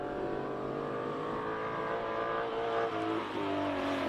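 A 1965 Shelby Daytona Coupe race car with a 5.7 litre engine pulls away at a hillclimb, its loud, steady engine note building smoothly from a close position with a brief dip near the end.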